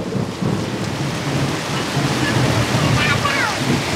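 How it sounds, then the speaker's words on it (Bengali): A rumble of thunder rolls through a heavy rainstorm over a courtyard, a low grumbling swell beneath the constant loud hiss of rain, with a brief voice faintly audible. "মেঘে ডাক দিছে"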